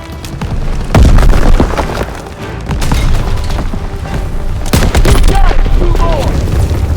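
Sniper rifle shots at ammo caches in a World War II video game ring out as loud booming reports, several sharp blasts with echoing tails over continuous battle noise, while players talk over it.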